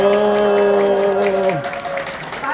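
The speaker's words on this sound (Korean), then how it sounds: "끝날 때마다 이 박수 굉장히 필요합니다" An audience at a university social welfare department event claps throughout, the applause running under a sustained tonal sound that breaks off midway, after which the clapping carries on alone.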